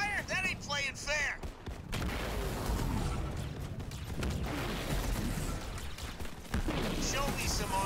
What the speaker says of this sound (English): Artillery fire? That ain't playing fair!